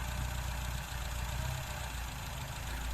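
A car engine fitted with a Weber carburetor idles steadily at around 850-900 rpm while the carburetor is adjusted by hand, a continuous low rumble with no talk.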